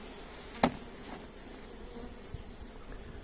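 Honeybees bring in rapeseed nectar around apiary hives, making a steady, close buzzing drone with a sharp click standing out early on.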